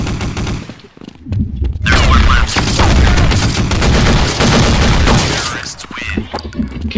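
Rapid submachine gun bursts in a shooter video game, loud and dense, continuous rattling fire for several seconds with a brief lull near the start.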